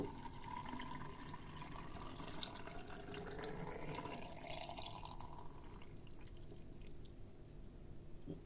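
Brine pours and gurgles steadily into a jar of tomatoes, with a changing pitch as it fills, then drips and trickles softly at the end.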